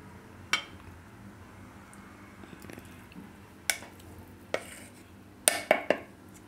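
Appe batter is spooned into a pan in a kitchen: soft scraping and stirring with several sharp clinks of a spoon against metal, close and intermittent.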